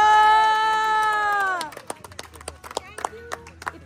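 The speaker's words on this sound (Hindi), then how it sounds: "कमल पाजी के लिए तालियां।" At a birthday celebration in Bangkok, a sustained tone fades out, then scattered claps and brief shouts follow in uneven bursts, loud and close, mixed with a lively group.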